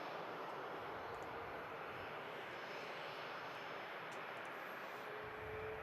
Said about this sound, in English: Airbus A320. Irish designated as well.